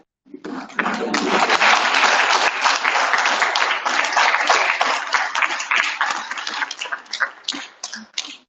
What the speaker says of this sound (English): We have one more round of applause to our graduates.